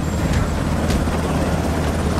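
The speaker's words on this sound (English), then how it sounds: "It's an MB-105, completely acrobatic helicopter." An MBB Bo 105 acrobatic helicopter flying in a James Bond movie, heard as a loud, continuous rotor and engine roar that fills the scene without a break.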